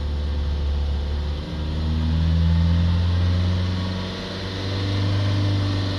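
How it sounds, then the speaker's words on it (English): Renault Trafic van engine, cold and stationary, held at steady raised revs with a continuous droning hum that swells and eases slightly, loud and close with no talking. "I'm just going to hold the revs for a few minutes"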